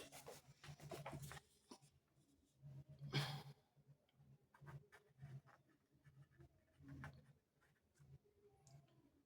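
A pen scratches across paper up close as a maths answer is written, with quiet, intermittent strokes and rubbing in short uneven bursts separated by brief pauses.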